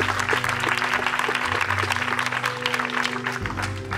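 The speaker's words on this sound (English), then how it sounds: "another round of applause for George and all the artists and musicians" Steady, dense applause from an audience at an anti-fracking rally fills the whole stretch, a continuous wash of many hands clapping with a low hum underneath.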